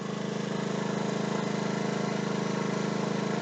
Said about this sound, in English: Don't even sound like the generator's struggling.